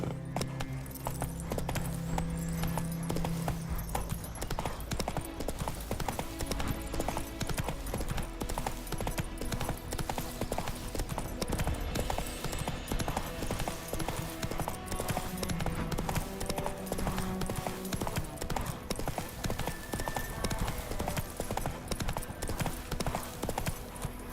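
Horse galloping in The Witcher 3, rapid rhythmic hoof clip-clops pounding steadily throughout, mixed with game ambience and an occasional faint whinny.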